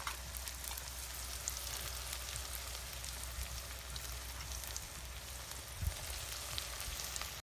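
Curry leaves and onion sizzle in hot oil in a quiet, continuous crackling fry for a potato poha dish, with a faint low hum beneath and a single soft knock near the end.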